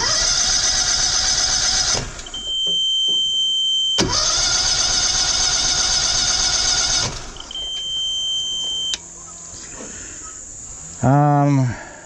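Engine repeatedly cranked with the key but not starting, with several long, loud, rapid whirring cranking bursts separated by quieter gaps, a voice speaking briefly near the end.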